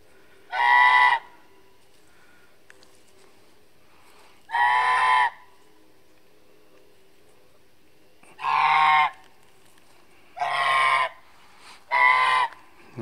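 A guard bird at Acid Park in Wilson, North Carolina gives five loud, honking calls spaced a few seconds apart, each about half a second long, with quiet outdoor background between them.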